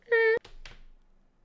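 A cat gives one short, clear, close meow, then a pair of dull thumps follow, with low background noise after.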